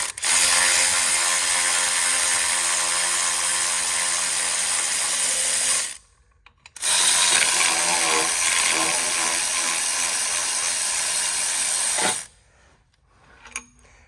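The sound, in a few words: wrench ratcheting on Chevrolet Captiva timing chain job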